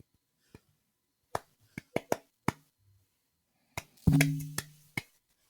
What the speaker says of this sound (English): soft clapping.